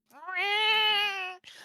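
A single long, clear cat meow, close and loud, rising then holding before cutting off, followed by a brief voice.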